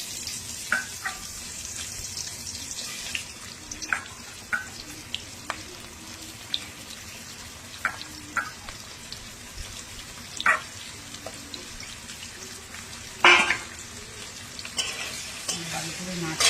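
Chopped onions sizzle in hot oil alongside a katla fish head, with a steady frying hiss broken by scattered spoon scrapes and stirring clanks, including a louder clatter near the end.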